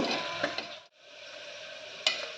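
Chopped onions fry in a pan until golden brown as the base for tomato rice, giving a steady soft sizzle over about two seconds with a brief dip and a couple of light stirring scrapes.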